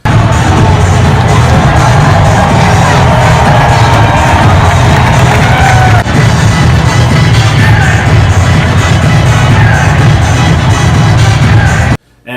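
A large stadium crowd at an Atlanta Braves baseball game cheers and yells loudly and continuously as the game starts, with whoops and shouts over a dense roar that cuts off suddenly at the end.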